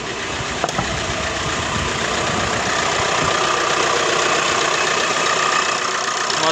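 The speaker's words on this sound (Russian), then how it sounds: "Заводится вообще идеально." A Volkswagen Crafter 2.0 TDI diesel van, just back together after cylinder head repair, starts with a brief crank and runs on at a loud, close, steady idle with an even diesel clatter.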